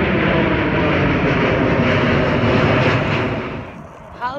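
An airplane passes at an airport with a loud, sustained engine roar that stays close and then fades toward the end, followed by a brief rising whine.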